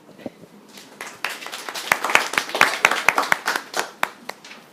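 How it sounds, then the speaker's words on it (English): An expo audience claps after a crowdfunding presentation, starting with a few scattered claps and swelling into a brisk, uneven patter of nearby hands before thinning out. "Give yourselves a clap."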